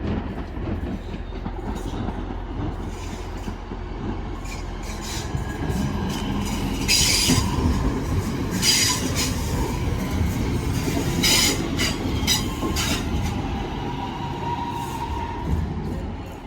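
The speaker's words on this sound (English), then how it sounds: "Looks like this train's arriving in first is a 323 going to Stockport." A Class 323 electric train pulls into Stockport station, its rumble building steadily with bursts of wheel squeal and rail clatter. The passing cars stay loud and close throughout.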